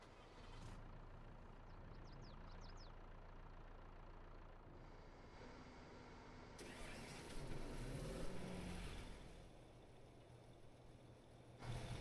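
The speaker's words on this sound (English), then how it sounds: "Do you guys hear that truck trying to start?" A truck engine in a farming video game churns and cranks in a low rumble, rising briefly as it struggles to catch, with faint mechanical noise around it.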